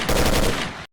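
Rapid automatic gunfire from a weapon in the S.T.A.L.K.E.R. game with the Strelok's Origin mod, a loud close burst lasting under a second that cuts off abruptly.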